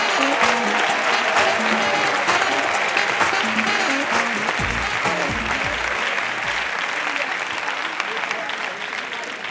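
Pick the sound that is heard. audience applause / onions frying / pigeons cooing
audience applause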